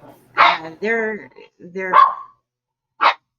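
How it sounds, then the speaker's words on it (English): Dogs bark in short, sharp yips and barks indoors, several bursts spaced across a few seconds, fairly close, with a little speech mixed in. "Sorry about the barking, guys."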